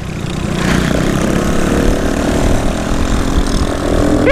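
A Honda Pop 110 motorcycle with a can exhaust roars loud and close while riding at night, a rough, raspy engine drone holding steady throughout with wind noise.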